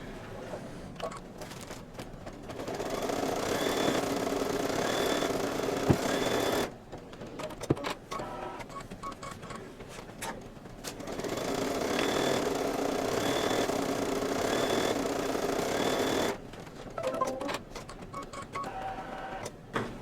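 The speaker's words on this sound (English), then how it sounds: "now it is stitching out the placement line for the foam" A single-needle embroidery machine stitches out a placement line for foam, a steady rapid mechanical chatter running in two long passes separated by a short pause, loud and close with no talking.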